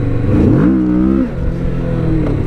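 A Kawasaki Vulcan S 650 accelerates hard in first gear, its engine note climbing loud and close, then dropping briefly at a shift before revving up again.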